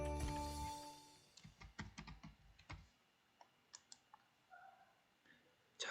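A password is typed on a computer keyboard after a brief chime: a scattered run of light, quick key clicks, close and fairly quiet, in a silent room.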